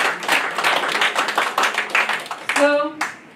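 A church audience breaks into clapping, a dense patter of hands over about two and a half seconds with voices mixed in, ending as a single voice takes over.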